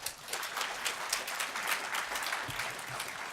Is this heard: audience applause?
yes